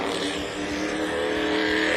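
A car performs a burnout at a race event, its engine roaring loud and continuous with a harsh, sustained rasp of spinning tires and no pauses.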